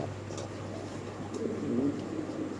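Soft, low pigeon cooing against a steady background hum, fairly quiet and close by.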